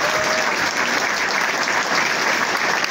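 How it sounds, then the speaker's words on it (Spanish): A crowd at a political campaign rally applauds continuously, a dense, loud wash of clapping with no pauses. "voy a pedir un aplauso nuevamente"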